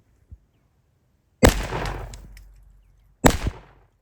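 A Taurus Judge revolver fires two 000 buckshot rounds in quick succession outdoors, two sharp loud blasts about two seconds apart, each with a decaying echo tail, preceded by a faint click.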